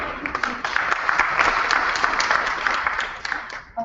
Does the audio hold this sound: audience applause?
yes